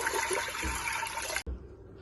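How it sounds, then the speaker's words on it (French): Water pours from a spout into a cooking pot (cocotte), about a litre going in as a steady, rushing splash for over a second before cutting off abruptly, leaving a quieter room. "dans une cocotte, on va mettre le litre d'eau"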